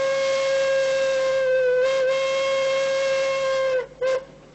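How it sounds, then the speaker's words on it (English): Puffing Billy, an old steam train, sounds a long, loud, steady whistle toot that holds for several seconds, then cuts briefly and gives a short final blast. "And what would an old steam train be without this classic toot?"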